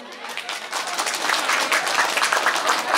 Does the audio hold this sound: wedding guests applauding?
yes